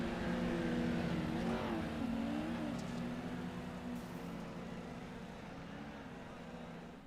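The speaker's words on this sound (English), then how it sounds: "Mikey and Brian having a ding-dong in the background there, smashing the cars up." Pro4 race trucks at Crandon roar and rev in a racing video game, engine drones rising and falling across several seconds and slowly fading, with a voice talking over the engines.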